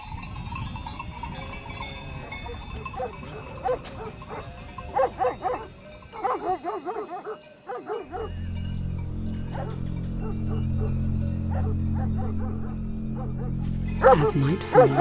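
Maremma sheepdogs working as guard dogs at night bark in scattered bursts over a narrator's voice, followed by a steadier low drone and a louder cluster near the end.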